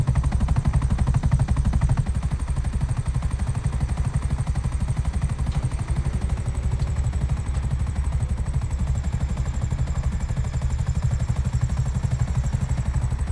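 A helicopter in the GTA V video game zombie mode thrums with a continuous, loud, fast rotor pulse that holds steady throughout.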